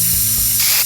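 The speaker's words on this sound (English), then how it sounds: "we'll be turning our spray cans on" A spray can lets out one loud, close, continuous hiss that swells brighter toward the end before cutting off, with no voices.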